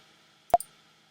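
A single sharp computer mouse click sounds close and quick in near silence, followed by a fainter second tick just after it.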